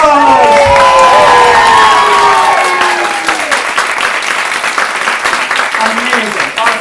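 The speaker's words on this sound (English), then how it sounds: "Give them a round of applause." Audience giving a round of applause at a talk-show taping, loud clapping mixed with cheers and whoops, fading somewhat as it continues.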